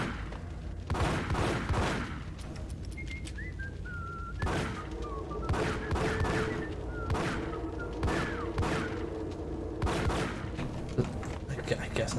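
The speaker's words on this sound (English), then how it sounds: "I think I have to shoot this" Gunshots ring out in the Max Payne video game, a run of loud, sharp blasts in uneven bursts spaced across the scene, layered over a thin whistling tone and a steady background hum.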